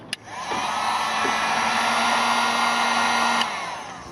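A heat gun blows steadily to shrink heat-shrink tubing over a crimped wire, a close, loud whooshing hum that switches on with a click, runs for about three seconds and then cuts off.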